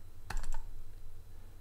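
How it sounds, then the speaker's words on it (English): Computer mouse double clicking, a quick pair of sharp clicks followed by another pair close together, near and clear over faint background hum, no talking. "I'm double clicking here, double click,"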